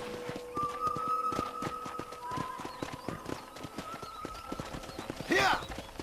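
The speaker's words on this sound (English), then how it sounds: "let's see if you can still ride a horse." Horse hooves clip-clop in a steady rhythm while riding in the video game Red Dead Redemption. A brief whinny comes near the end, with music and speech underneath.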